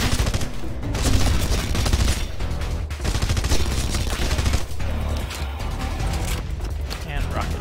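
Rapid turret gunfire in the video game Demons of the Badlands, loud and dense, rattling in sustained bursts with explosive booms mixed in, heard close amid other game noise.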